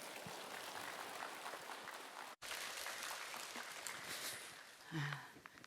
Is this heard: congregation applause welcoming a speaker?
yes